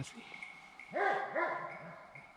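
Hunting dogs bay in a few short, strong barks at a wild boar during a driven boar hunt, mid-distance and fairly loud in an outdoor setting.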